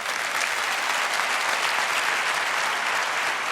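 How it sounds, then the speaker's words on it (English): An audience at the 2019 MotoGP awards ceremony fills the room with dense, continuous applause, loud and steady throughout with no pauses. "Let's give him another round of applause."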